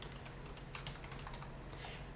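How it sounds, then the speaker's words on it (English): Steady keystrokes on a computer keyboard while accounting entries are typed in, a close, quiet run of light clicks with no talking. "Okay, so type that in."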